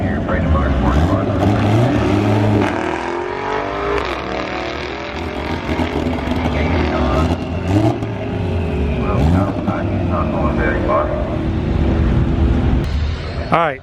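A Mazdaspeed3 car on a drag strip test pass at Brandon Motorsports Park, its engine revving hard through rising gear sweeps with shifts between, loud and sustained, with a voice speaking over it.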